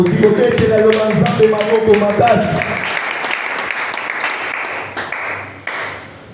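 A church congregation at a worship service applauding, sustained loud clapping with voices and cheering mixed in at first, gradually thinning out toward the end.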